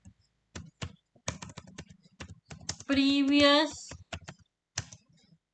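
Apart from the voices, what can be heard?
typing code on a computer keyboard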